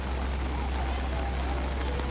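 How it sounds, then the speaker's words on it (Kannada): Heavy rain pours down at a fishing harbour in Malpe, Udupi, a dense, steady hiss of drops on surfaces filling the whole short stretch, loud and unbroken. "ಮಳೆ ಜೋರಾಗಿ ಬರ್ತಾ ಇದೆ"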